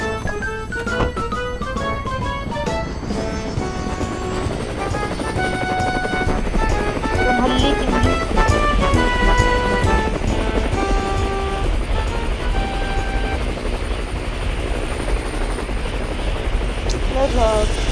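A helicopter in the Roblox game Mad City drones steadily with a rhythmic rotor chop throughout, under occasional talk.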